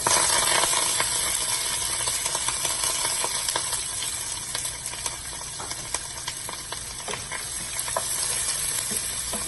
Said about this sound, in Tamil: நம்ம வெங்காயம், பச்சை மிளகாய், கருவேப்பிலை அது சேர்த்துக்கலாம்.